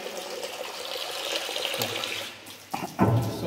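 Water flows steadily through a packed bed and into a collecting vessel in a lab setup, a continuous broadband rush that shifts and splashes more heavily near the end.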